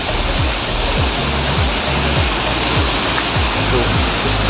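Rushing water at Curug Lembah Pelangi waterfall near Bogor, West Java, a loud steady roar of falling water filling the scene, with faint low thumps beneath and no clear talk.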